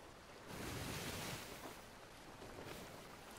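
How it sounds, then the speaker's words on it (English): Waves surge and splash against a ship's hull at sea, a loud broadband wash that swells after the first half second and keeps rushing steadily, with wind noise buffeting the microphone. "look at the effect of the waves splashing up against the hull of the ship"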